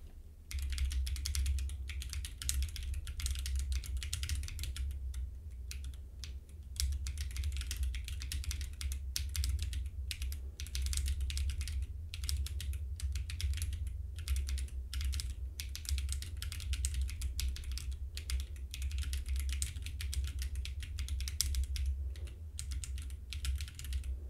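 Steady, continuous clatter of fast typing on a custom-built, hot-swappable mechanical keyboard with a custom PCB during a Monkeytype speed test, close and moderately quiet over a low hum, with no talk.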